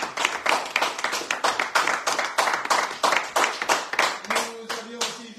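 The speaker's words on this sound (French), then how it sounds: "Vous pouvez l'applaudir." A studio audience on a French radio show claps for a live whistler: fast, steady rhythmic hand clapping fills the clip, and a brief tonal sound rises near the end.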